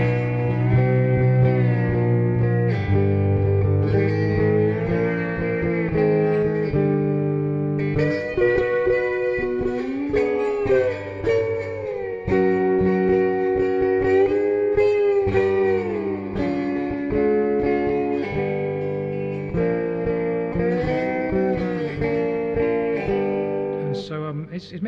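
A magic-fretted guitar in open G6 re-entrant tuning plays a sustained, ringing passage with rich harmonics and some string noise, steady and close throughout.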